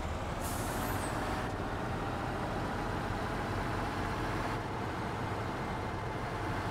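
A Ural 4320 heavy truck engine rumbles steadily at close range while reversing in Farming Simulator 19, a dense low drone with a brief hiss of air near the start.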